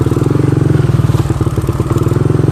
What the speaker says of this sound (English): This four-wheeler's much more than a trail rider.